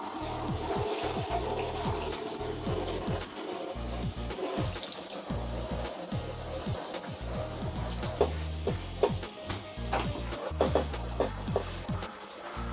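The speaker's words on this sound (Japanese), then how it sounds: "ではシャワーですすいでいきます。" A shower spray rinses bathtub walls during bathroom cleaning, a steady close hiss of running water with splashing spatters and shifting flow, continuous and alone.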